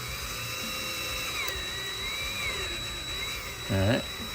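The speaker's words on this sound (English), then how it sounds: "Then you put your drill in there" Power drill whirring steadily as it bores into a workpiece, a continuous high whine with slight pitch wavering, ending in a brief louder burst near the close.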